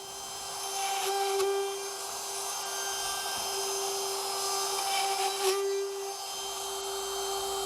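DeWalt 20V cordless compact router with a plunge base and a 3/8 inch guide bushing cutting shelf pin holes in cabinet parts, a steady high whine that runs throughout with brief louder bites as it plunges.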